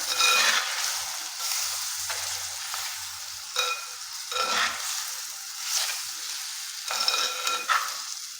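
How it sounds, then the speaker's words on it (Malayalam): Salted curry lemon sizzles loudly in a hot pan for a Kerala Onam-style curry, with repeated spoon-stirring scrapes cutting through the steady frying hiss. "ഇളക്കി കൊടുക്കാം."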